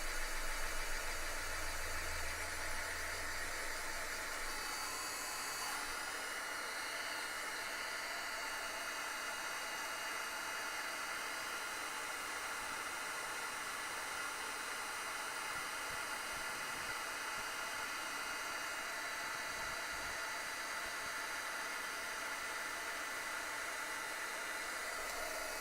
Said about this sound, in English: So we're going to turn on our heat tool.